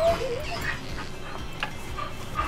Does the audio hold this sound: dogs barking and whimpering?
yes